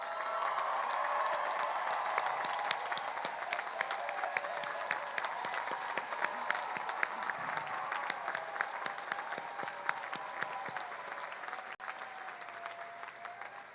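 Long, broad applause from a college commencement crowd honoring students' family members, dense and close at first, then gradually thinning and softening.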